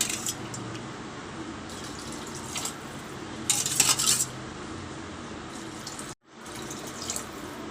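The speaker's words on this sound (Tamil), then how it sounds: "இப்போ நம்ம தண்ணி ஊற்றிக்கலாம்" Water poured into rice in a pot for vegetable pulao: steady splashing pour with brief metallic clinks, a louder bright burst midway, then a short pause and more pouring.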